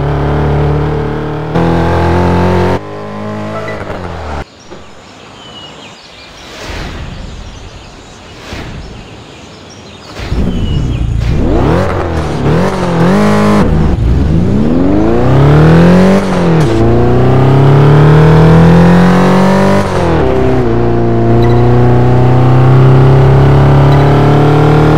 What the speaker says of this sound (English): Drive your vehicle successfully through the bend and control your braking to stop the vehicle inside the